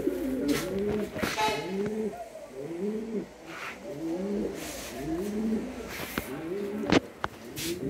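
Pigeons coo repeatedly in a loft of nesting pairs, their rolling, rhythmic calls overlapping close by at a steady moderate level, with a few sharp knocks and rustles mixed in.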